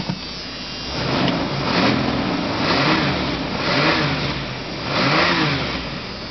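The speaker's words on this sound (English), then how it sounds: "I'll get a wee rev." A car engine revving repeatedly in rising and falling surges over a steady idle, close and fairly loud, with no voices.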